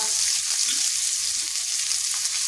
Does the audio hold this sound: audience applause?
no